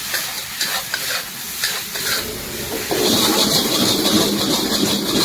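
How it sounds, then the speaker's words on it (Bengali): Kolkata street-food egg chowmein noodles stir-fried in a pan with green chilli sauce and tomato sauce, giving a steady close sizzle with scraping stirs that swells louder and denser halfway through. "Green chilli sauce, tomato sauce, ভালো করে মিক্স করে দেবো নুডলসটাকে।"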